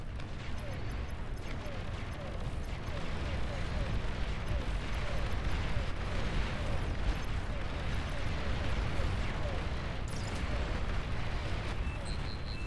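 Bombing-run explosions in the strategy game Beyond All Reason, a dense, continuous rumble of overlapping blasts and artillery-like booms filling the whole stretch at steady loudness, with voices faintly mixed in.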